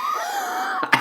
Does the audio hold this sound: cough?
yes